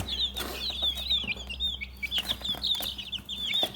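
Three-week-old chicks kept indoors on an upper-floor apartment balcony, peeping and chirping in quick high repeated calls, close and fairly faint, with soft shuffling and rustling in the background.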